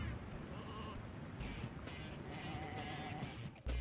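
Sheep bleating in the Looney Tunes: Sheep Raider video game on PS1, a few wavering calls over a dense, busy game soundscape with steady low rumble throughout.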